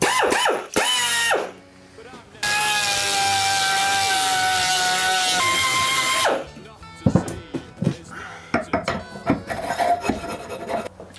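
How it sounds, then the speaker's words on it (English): A high-pitched die grinder whines steadily for several seconds, cutting into the hard metal teeth of a sprocket held in a vise, with a rasping edge, then stops; scattered clanks and handling noises follow. "and then get a die grinder."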